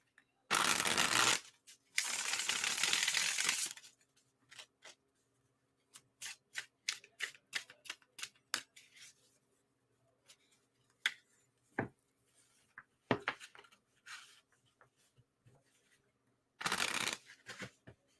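Close riffling bursts of tarot cards being shuffled, followed by a flurry of soft taps and flicks as cards are handled and laid down, no talking.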